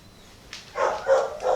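A dog barks excitedly at a training collar, giving a few close, short yips and barks in quick succession.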